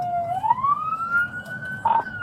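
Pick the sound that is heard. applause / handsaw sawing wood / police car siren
police car siren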